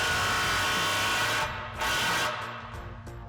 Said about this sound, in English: we're going to run it the rest of the way off with our impact